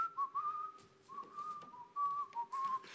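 A person whistles a wavering melodic tune in short phrases during a music livestream, clear and close against a quiet background.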